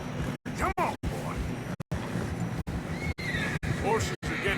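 A horse whinnies repeatedly in Red Dead Redemption 2 while riding along a narrow snowy trail, with hoof clops and voices talking over it.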